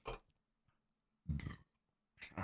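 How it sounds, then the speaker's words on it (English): Three short, low, guttural bursts separated by silence, close and loud, like burps with a throaty rumble. "I apologize. I keep burping."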